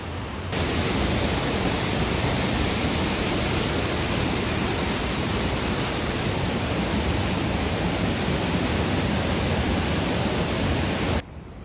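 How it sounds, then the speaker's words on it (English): Rushing waterfalls at Havasu Falls in the Grand Canyon roar as a steady, dense, loud wash of white water that holds unbroken throughout. "There's these rushing waterfalls behind me"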